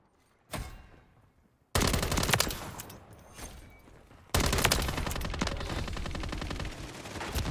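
Call of Duty MW3 gunfire from a BAS B rifle: a short burst, then two long sustained automatic volleys, loud and close with sharp onsets and dense rapid shots.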